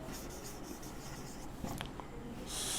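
A pen scratches shorthand strokes across paper in close, quiet, continuous writing, with a few short tapping marks near the end and a brief rise in hiss.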